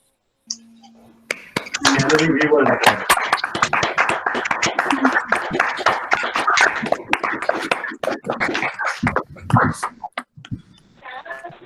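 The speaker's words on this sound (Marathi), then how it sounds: "प्रत्येकाने आपापले मायक्रोफोन अनम्यूट करा आणि please join in a big round of applause" Participants in an online meeting clap with unmuted microphones, many scattered hand claps overlapping in a dense, uneven burst lasting several seconds, some close and sharp, others thin and compressed, with voices mixed in.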